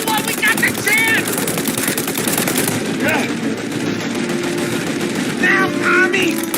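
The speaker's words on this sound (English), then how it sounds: "Shoot out your gun when there's a break in the fire!" Rapid automatic gunfire and machine-gun bursts in a shootout from the video game Mafia: Definitive Edition, loud and sustained throughout, with brief shouted voices over the firing.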